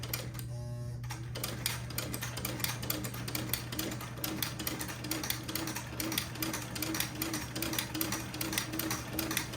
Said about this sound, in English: Lower my presser foot, and then proceed to sew a buttonhole.